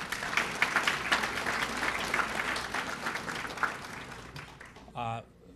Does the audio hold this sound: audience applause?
yes